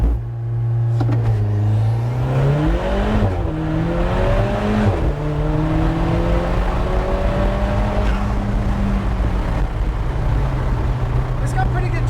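An Alfa Romeo 4C with a GMS engine mount upgrade launching hard, its engine note climbing through rising revs with a shift break, then settling into a steady drone; people talk over it inside the car.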